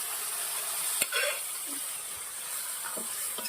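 Valor beans stirred into hot oil spiced with red chilli powder and turmeric, giving a steady close sizzle and hiss with a few soft scraping knocks from the spoon.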